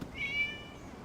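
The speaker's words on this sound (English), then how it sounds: "It was just a cat." A cat in the video game Genshin Impact lets out a single short, clear meow at moderate distance, rising then fading.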